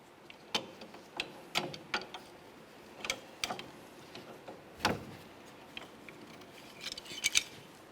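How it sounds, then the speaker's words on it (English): Long pliers click and scrape in sharp, irregular metallic ticks while turning the jam nut on the inner tie rod of a 2005-2010 Chevrolet Cobalt steering rack, close and fairly quiet. "turn this jam nut clockwise, the opposite of what you might think"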